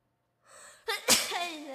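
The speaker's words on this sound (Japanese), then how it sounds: "くしゃみでそう" A single sharp sneeze sounds close to the microphone during a live stream: a short breathy intake, then an explosive burst trailing into a brief vocal tail.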